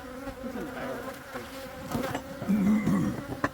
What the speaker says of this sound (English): there's a wasp